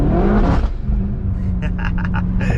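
Heavily modified BMW G80 M3 engine pulling through a small enclosed village, loud and close, with a steady low drone and bursts of raspy high-end crackle or pops toward the end.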